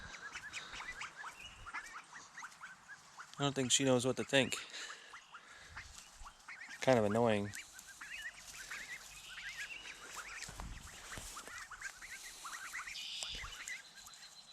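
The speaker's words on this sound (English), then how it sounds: "we had to split apart the ducks from those other chickens" Ducks and chickens kept in a homestead pen make a few honking, quacking calls in two short bursts amid soft rustling, with a person talking quietly.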